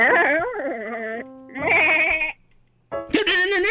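Sheep bleat loudly and close by in several long, wavering calls separated by short pauses, and a voice is heard at the end.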